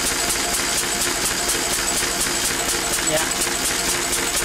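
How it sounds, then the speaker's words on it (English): Lister D single-cylinder engine running steadily on a dyno while driving an alternator, with a fast regular thumping beat throughout at close range and a brief voice over it. "this engine is producing about 1 horsepower at that, because that's about what it takes to drive this alternator just to keep the battery topped up"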